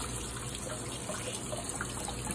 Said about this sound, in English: it's filling up with water